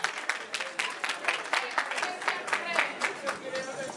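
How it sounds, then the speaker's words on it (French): Loud, dense applause from a crowd at a ceremony marking Guinea's 52nd independence anniversary in 2010, greeting a guest named Sekou Touré; many hands clapping in steady bursts, with a voice faintly present underneath. "on applaudit très fort, monsieur Sekou Touré."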